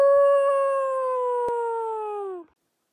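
A single long, clear howl mimicking a wolf, loud and close, holding a steady pitch before cutting off abruptly, with a brief click partway through.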